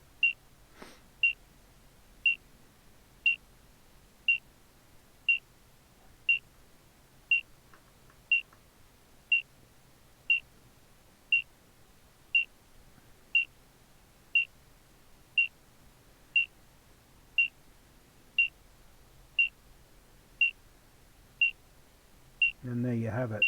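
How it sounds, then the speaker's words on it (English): A ghost detector device in a ghost-hunting video game emits a steady series of short, sharp electronic beeps at a regular rhythm, about one per second, clear and close, before a louder burst of noise at the very end. "we walk in here, you can see it beeping"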